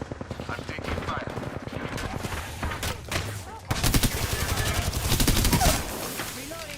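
Rapid bursts of automatic gunfire from an Apex Legends battle, dense and continuous, growing louder and heavier midway with overlapping shots and game effects.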